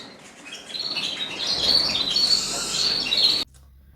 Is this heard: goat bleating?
no